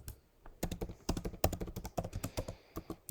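Rapid, uneven keystrokes on a computer keyboard while code is entered, a close run of clicks and taps with brief pauses and no talk.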